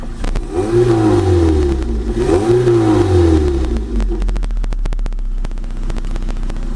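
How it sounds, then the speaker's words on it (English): A 1988 Toyota MR2 with a 2ZZ engine swap revs twice in quick succession, each rise and fall loud and close, then drops back to a steady low idle with faint clicking. "Give it a rev."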